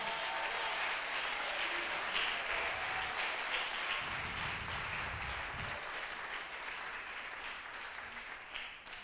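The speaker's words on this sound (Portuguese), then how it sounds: "Você pode aplaudir ao Senhor?" A church congregation at a Brazilian thanksgiving service claps in sustained applause, a dense crowd roar of many hands with a faint voice underneath, fading slightly near the end.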